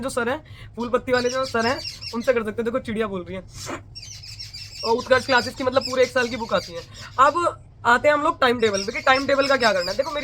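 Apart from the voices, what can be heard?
bird chirping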